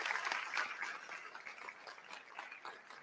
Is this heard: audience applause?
yes